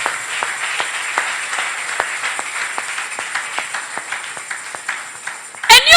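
A church audience gathered for a 70th-year thanksgiving claps in loose rhythm, moderately loud individual claps repeating steadily, with a brief burst of noise at the end.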